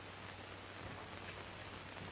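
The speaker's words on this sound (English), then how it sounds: "Rain, rain, rain. Whenever is it going to stop?" Steady, fine hiss of rain falling in a 1930s drama, a soft, even wash with a faint low hum underneath, quiet and continuous throughout with no voices.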